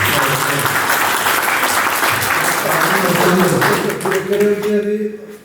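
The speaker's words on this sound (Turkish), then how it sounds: "Alkış yapalım" Sustained applause from a crowd at an association ceremony, steady dense clapping that fades out toward the end.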